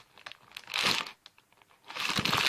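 Plastic packaging around Amazing Squishies toys from Target crinkles in two loud bursts, one near the start and one near the end, with quieter crackling between them.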